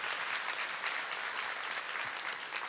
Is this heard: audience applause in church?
yes